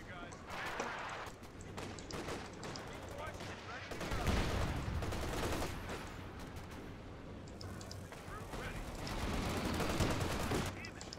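Sustained bursts of .50 caliber machine gun fire in Company of Heroes 2 crackle continuously through a dense battle mix, growing heavier around midway and near the end, with someone talking over the gunfire throughout.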